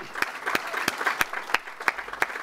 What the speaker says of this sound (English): can we all just give the Supervisor one more round of applause?